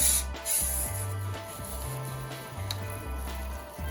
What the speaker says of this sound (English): This is a pet safe product. We're gonna spray it down,